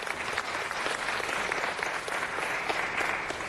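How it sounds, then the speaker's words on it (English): Steady, dense applause from an audience at a city council meeting fills the room without a break, loud and even throughout. "Let's give them a big round of applause."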